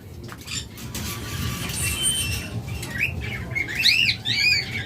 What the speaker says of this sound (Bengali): খুব সুন্দর শীষ বাজা। চমৎকার এই ককাটেলটা